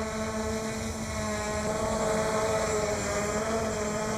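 Zero Zero Robotics Falcon Mini drone hovering and spinning about two meters away, a steady whining propeller buzz with layered harmonic tones, constant and moderately loud throughout.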